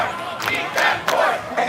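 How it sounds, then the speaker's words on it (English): Spectators at a pork roll eating contest at a ballpark roar and shout encouragement in loud surging bursts, swelling and dipping several times as the crowd yells in unison. "it is not only a cheer, it's instructions from the audience, eat the pork"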